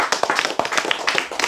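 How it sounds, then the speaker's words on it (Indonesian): A small audience at an Islamic religious talk claps for the Prophet, a sparse, uneven patter of individual hand claps with distinct sharp strikes, close and fairly loud over about a second and a half. "Tepuk tangan untuk Nabi."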